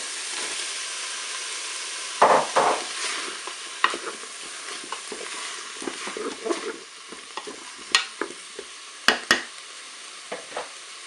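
Courgettes go into curry-dusted tuna in a Cookeo multicooker and are stirred, with repeated scraping strokes and clatter over a soft sizzle, sharp utensil knocks standing out near the end.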